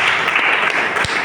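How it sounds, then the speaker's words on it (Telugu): A church congregation breaks into dense, steady applause at Sunday Mass, the crowd clapping loudly and evenly for about a second with no pause. "దేవునికి ఒకసారి గట్టిగా చప్పట్లు కొడతారా?"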